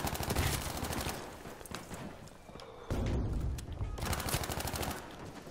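Gunfire rattles through a Battlefield V match, with loud rapid bursts of shots at the start and again later, separated by a quieter stretch of battlefield noise, with no talking.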